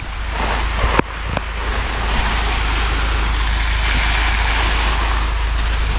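Irrigation water sprays across a robusta coffee plantation as a constant loud rushing hiss with a low rumbling undertone, broken by a couple of sharp knocks early on.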